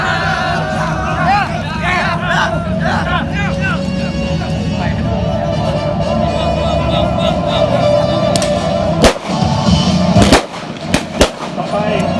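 M16 rifles and machine guns firing at an army open-house demonstration, a few sharp loud reports cracking near the end over a continuous crowd murmur and an amplified announcer voice.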